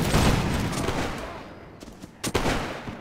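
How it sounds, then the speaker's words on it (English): A volley of musket fire in Mount & Blade Warband with the L'aigle mod, in a battle for Arnhem: a loud ragged opening crash that tails off, then a few sharp scattered shots. "ready! Aim! Fire!"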